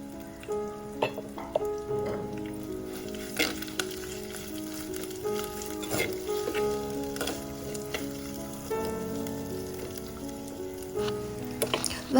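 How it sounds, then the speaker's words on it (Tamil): Onions sautéing in oil in a pan until browned for a drumstick curry, a steady sizzle broken by intermittent scraping and clinks of a spoon stirring, with faint background music. "வெங்காயம் சாடையாக கலர் மாறுற அளவுக்கு, அதாவது ப்ரௌன் கலர் வரும் வரைக்குமே நல்லாவே வதக்குங்க"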